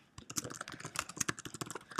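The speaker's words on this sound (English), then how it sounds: "So as fast as I can type" Rapid typing on a computer keyboard, a dense run of close, crisp key clicks in an irregular fast rhythm with no voices.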